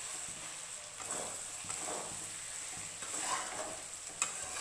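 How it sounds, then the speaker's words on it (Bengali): Ginger-garlic paste and fried spices stirred in a hot pan for a Nepali-style chicken and mustard greens dish, giving a steady soft sizzle with several scraping stirs and a sharp clink near the end. "আমি এখানে আদা রসুনের যে পেস্টটা ছিল তো সেটা দিয়েও ভালো করে নেড়ে নেব"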